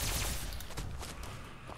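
Alien weapons fire in Fallout 76, a dense, rapid crackling volley of energy shots with sharp repeated bursts over a short span, loud and close with no talking.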